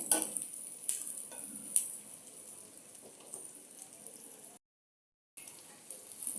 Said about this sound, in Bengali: পেঁয়াজটাকে লাল লাল করে ভেজে নিয়ে